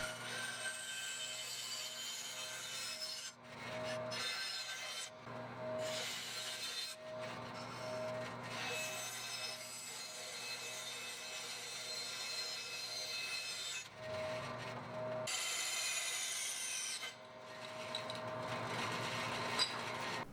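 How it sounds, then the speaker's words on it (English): Pieces of Wenge wood are sawn for the headstock wings of a custom bass guitar neck, with repeated sawing strokes of steady rasping, broken by several short pauses, over a low background hum. "firstly by cutting some Wenge pieces that will be the wings"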